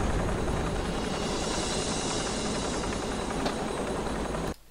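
In the shooter game Soldier of Fortune II, a helicopter keeps up a loud, steady rotor and engine roar that stays even for several seconds before cutting off abruptly at the end.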